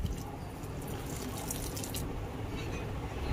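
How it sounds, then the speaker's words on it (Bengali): A cup of milk poured into strained palm fruit juice, giving a continuous close splashing, gurgling stream of liquid at an even level from start to finish, no voices. "এবার দিয়ে দিচ্ছি 1 কাপ তরল দুধ"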